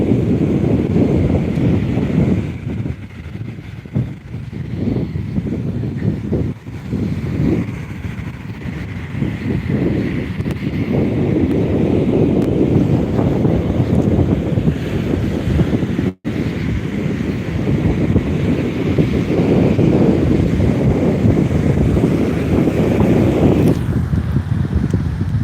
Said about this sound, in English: the wind is very heavy right now